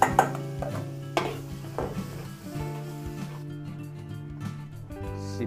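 Garlic stirred in a large pan for a big batch of Filipino pork, beef and noodles, with a spatula scraping and clanking against metal in repeated strokes over a soft background sizzle.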